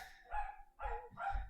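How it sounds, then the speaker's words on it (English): A pet dog barks three times in a steady rhythm, each bark muffled and somewhat distant, as if coming from another room, with no talking over it. "now it's my dog barking"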